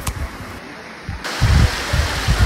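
Aguinid Falls, an eight-level waterfall in Samboan, Cebu, rushes as a steady broadband wash, with low thuds and handling bumps close to the microphone.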